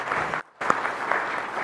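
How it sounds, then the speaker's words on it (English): An audience claps for a panel at a Senate Agriculture Committee field hearing, steady applause cut by a brief gap of near silence before it resumes. "Let's give them a round of applause"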